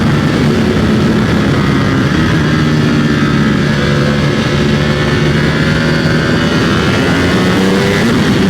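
A motorcycle engine roars loudly and continuously as it picks up speed, its pitch rising and falling as it climbs through the gears, with wind rush and no speech.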